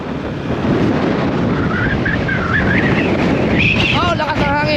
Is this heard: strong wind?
yes